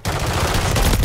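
Video game gunfire crackles as a dense, loud burst of rapid shots, filling the whole brief moment without pause.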